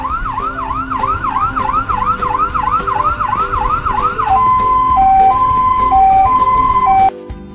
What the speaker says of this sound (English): The ambulance is arriving.